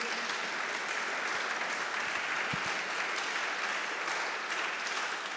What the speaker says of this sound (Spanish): Dale un buen aplauso.